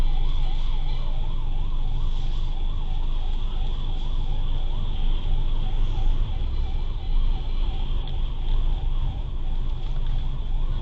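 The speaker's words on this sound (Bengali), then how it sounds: "দমকলে এবার যাচ্ছে মানে কিছু একটা হয়েছে" A fire engine siren wails continuously in a steady rising-and-falling cycle, loud and fairly close, over rumbling street traffic.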